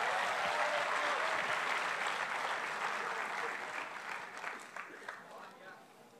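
A church congregation applauds during a worship service, a dense, steady wash of clapping that gradually thins and fades toward the end, with scattered voices mixed in.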